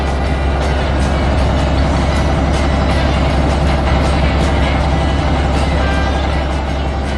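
Big trucks drive back along a worksite, a loud, dense engine roar with air brake hisses and faint reversing beeps mixed in, close and continuous.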